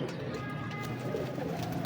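A pure Ali breed pigeon, its soft cooing mixed into a steady wash of broad background noise, close but not prominent.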